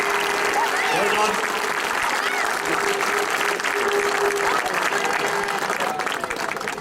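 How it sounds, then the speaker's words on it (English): Crowd applause at a county football final presentation, continuous and loud throughout, with a voice and some cheering mixed in. "Give him a big round of applause."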